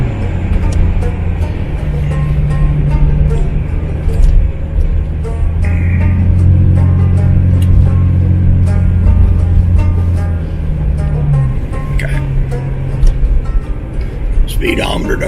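A Jeep Cherokee on a test drive hums with a steady low engine and road drone throughout, its tone rising and falling slightly with speed, while someone talks over it.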